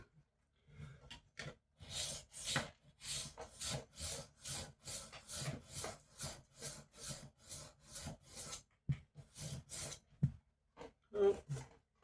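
A kitchen knife scrapes in long, regular rasping strokes along the coarse side of a sharpening stone, roughly two strokes a second, close and fairly quiet, with a few faint breaths and small knocks near the end.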